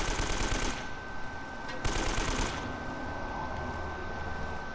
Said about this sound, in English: I have an AK, motherfucker.